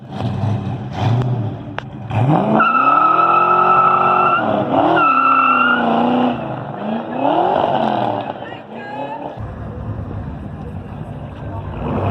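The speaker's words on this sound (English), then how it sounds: "Come on, do a burnout, bro." A car doing a burnout at a church car show: the engine roars and revs loudly with long squealing tire tones rising and falling, while people shout and talk excitedly nearby.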